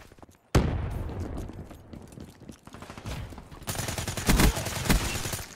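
Video game gunfire in a Call of Duty–style shooter: a sharp loud shot opens, followed by a dense rattle of automatic fire and crackling impacts, then heavier bursts and booms in the second half.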